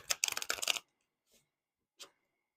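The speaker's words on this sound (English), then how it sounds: "I like to shuffle my cards with you watching" Tarot cards are shuffled in a quick, close riffle of crisp papery flutters that stops abruptly, followed by two soft isolated taps of the deck.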